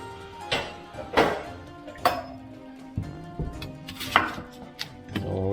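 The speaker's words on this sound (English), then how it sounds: "going to chop the celery" Celery chopped with a knife on a board, a series of sharp, close knocks at an uneven rhythm, about eight cuts over a few seconds.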